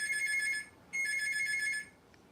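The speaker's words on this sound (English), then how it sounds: "Can you get the phone?" A phone rings indoors in two steady, close electronic bursts separated by a short gap, then falls silent, with no one talking over it.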